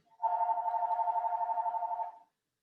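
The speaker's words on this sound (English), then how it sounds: "sorry about the phone ringing in the background." A telephone rings once in the background as a single buzzing, warbling burst of about two seconds, moderately faint, with nothing else heard around it.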